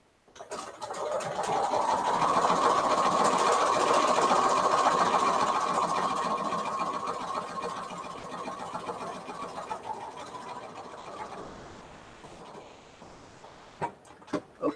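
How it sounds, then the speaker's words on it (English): Sewing machine stitching a seam along folded bias tape for scrap quilting, a steady continuous whir that starts up, runs evenly for several seconds and winds down, followed by a few faint clicks. "I'm going to sew another seam over it, a little bit closer to the fold."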